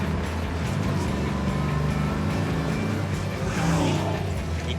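A Mustang DZ302 being driven, its V8 engine a steady, loud, close rumble that keeps on without a break, with a brief surge and rise in revs near the end.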